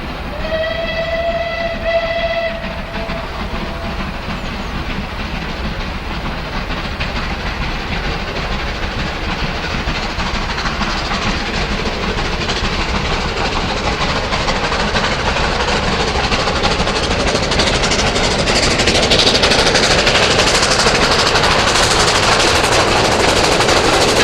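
Steam locomotives Tangmere and Cromwell work hard at Liskeard, opening with a clear whistle blast, then a loud continuous roar of exhaust and rolling wheels that builds as the train passes close by.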